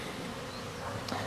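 A honeybee swarm clusters on a small hive fitted with a narrow Slovian frame, giving off a steady, dense buzzing hum that holds throughout at close range, with a faint swell near the end.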